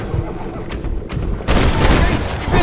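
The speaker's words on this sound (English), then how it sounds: "I'm telling you, Irish, that machine gun had better work after all this." Machine gun fire in Red Dead Redemption: a rapid, loud burst of shots that swells midway and keeps rattling, with game sounds before it.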